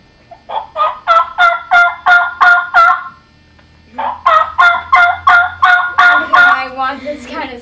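A turkey hen's assembly call: two series of rhythmic, evenly spaced yelps, loud and close, the second series trailing into rougher notes.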